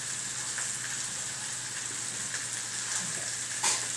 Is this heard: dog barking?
no